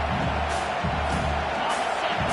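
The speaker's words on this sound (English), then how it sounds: "Listen to this crowd just shaking the girders of this place trying to help their defense." A packed football stadium crowd in a Kentucky versus Michigan game roars in a dense, sustained wash of noise, with a commentator's voice faintly mixed in.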